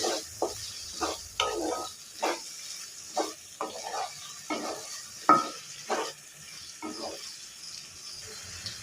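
Prawn curry mixture being stirred in a pan: repeated scraping strokes roughly every half second, each a short gritty burst over a soft sizzle, close and fairly quiet, with no talking.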